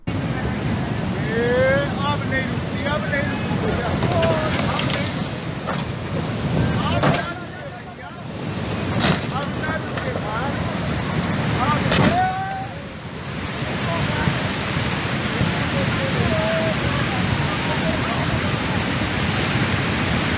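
Rough brown floodwaters surge and roar around a stuck bus as it is swept away, a steady loud rushing wash with gusty wind noise and faint voices mixed in.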